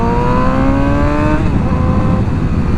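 A 2007 Yamaha YZF R6 sport motorcycle engine revving, pitch climbing then dropping off into a rough idle rumble, loud and close, with no voices.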